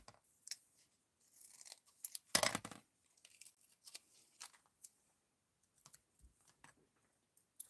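Scissors snip through paper for a Halloween flatmail craft, making a string of short, close, crisp cuts and rustles, with one louder burst of paper handling partway through.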